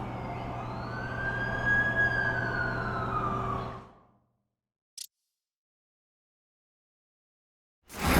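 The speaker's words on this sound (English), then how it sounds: "That's the ambulance I called." An ambulance siren wails in The Amazing Spider-Man 2 video game, a loud rising and falling tone over engine rumble for about four seconds before cutting off to silence, followed by a brief click and another sound starting at the end.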